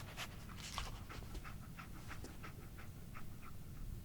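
Dogmeat, the dog companion in Fallout 4, pants in quick, regular breaths throughout, faint and steady against a low background hum, with no talking.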